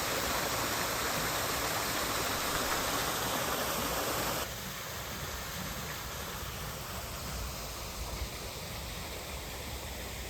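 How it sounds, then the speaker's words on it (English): Steady broadband rush of water from several waterfalls and fountains on landscaped grounds, constant and fairly close, dropping slightly in level partway through but continuing without a break; no voices. "Several waterfalls, fountains all over the place."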